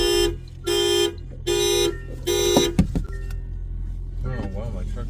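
A pickup truck's horn honks four times in a steady rhythm, loud and close, with a running engine idling underneath before a faint voice follows at the end.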